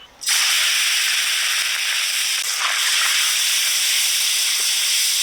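Small tangra fish coated in salt and turmeric dropped into hot mustard oil in a wok, bursting into a loud sudden sizzle that holds as a dense, steady hiss.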